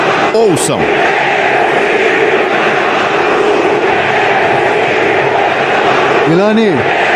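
Corinthians football supporters in the stands, a dense, loud crowd roar with chanting that stays continuous throughout, while a voice briefly rises over it near the start and again near the end.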